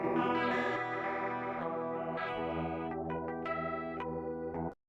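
Richly layered instrumental signal run through a spatial chorus effect set to full mix, swirling and sweeping from left to right; dense sustained tones with shimmering, doubled texture that continues steadily, then cuts off abruptly near the end.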